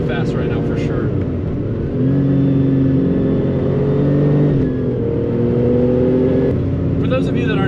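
A Porsche 993 Turbo driven hard on a winding mountain road, its engine droning loud and close from inside the cabin with rising and falling pitch through gear changes, while people talk over it.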